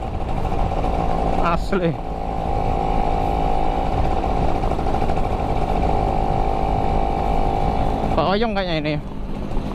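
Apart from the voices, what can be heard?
Yamaha F1ZR two-stroke motorcycle engine at full throttle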